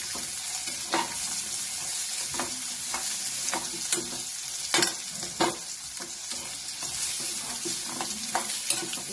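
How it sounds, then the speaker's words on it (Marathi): Cooked chickpeas and onion fried in oil are stirred with a spoon in a pan, giving a steady close sizzle broken by repeated scraping strokes at an uneven rhythm, with no voices. "आता त्याच्यामध्ये हा हरभरा घालायचा, जो आपण शिजवून घेतलेला तो, आणि 5 मिनिटं चांगलं तेलामध्ये हलवायचं."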